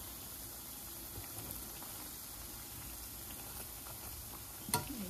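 Vegetable pakoras coated in besan batter fry in hot oil, giving a soft, steady sizzle and bubbling with a brief sharp clatter near the end. No voices are heard.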